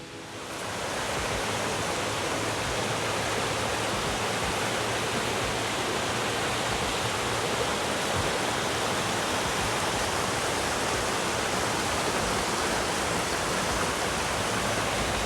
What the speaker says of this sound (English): Those rapids and rushing rivers are things that we don't have in Florida